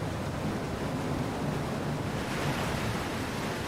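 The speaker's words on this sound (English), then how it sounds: "the foaming water masses of Germany's highest waterfall plunge down over almost 400 meters" Germany's highest waterfall, plunging almost 400 meters in a national park valley, heard as a steady, broadband roar of falling water, distant and constant with no voices.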